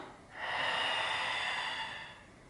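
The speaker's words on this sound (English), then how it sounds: "We're breathing in and then out." Close, audible breath drawn through the nose in a single long, steady stream during a Pilates exercise, rising quickly and fading out over about two seconds in a quiet room.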